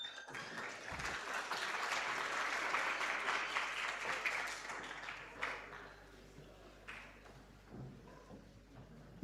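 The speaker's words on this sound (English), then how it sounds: "Another round of applause for our minister." An audience applauds the Minister of Basic Education at a school safety event in Eldorado Park: sustained, fairly distant clapping that peaks early, then thins into scattered claps.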